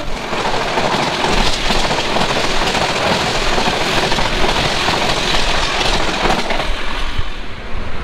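Steady, loud rumble and rushing clatter of the Chilahati Express, a luxury passenger train in Bangladesh, heard from inside while travelling, with a dense, continuous roar and no talk.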